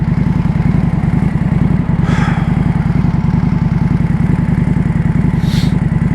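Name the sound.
motorcycle engine idling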